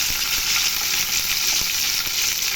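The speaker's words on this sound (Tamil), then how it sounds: "போட்டு நல்லா கடாயில் நல்லா ட்ரையாக ஃப்ரை பண்ணிடலாம்" Okra frying dry with cumin in a kadai gives off a steady, bright sizzle, close and continuous, with a few faint knocks from stirring underneath.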